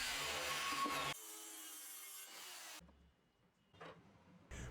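A saw cuts plywood pieces for a 3D printer filament storage cabinet, giving a loud, close, continuous cutting roar that drops out partway, followed by quieter short bursts.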